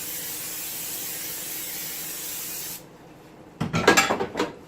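Cooking spray hisses onto a baking pan in a steady, close spray for about three seconds, then stops, followed by a short burst of rubbing and clattering handling sounds.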